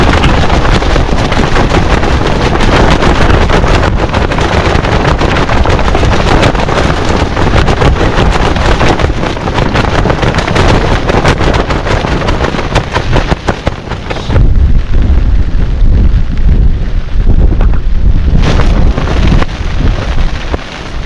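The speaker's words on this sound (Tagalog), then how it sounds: "Bigla-bigla yung lakas ng hangin." Strong super-typhoon wind gusts roar steadily and loudly across an open coastal campsite at Pagudpud, with rough buffeting on the microphone that eases slightly partway through before surging again.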